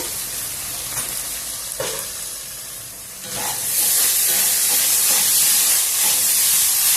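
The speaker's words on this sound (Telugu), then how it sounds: "ఒక రెండు నిమిషాలు మగ్గనిద్దాము" Cluster beans and egg curry cook in a pan with a soft, continuous sizzle and hiss that swells louder about halfway through, with a few small clinks along the way.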